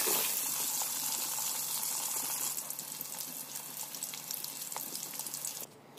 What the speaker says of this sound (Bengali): এবার ওই তেলের মধ্যে আলু দিয়ে দিতে হবে। এবার আলুগুলোকেও খুব ভালো মতো ভেজে নেব।